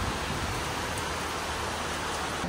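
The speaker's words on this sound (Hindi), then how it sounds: "बहुत हेवी बारिश हो रही थी" Heavy rain pouring steadily in hilly Pelling, a dense, even hiss that fills the whole moment without pause, loud and close, with no voices heard.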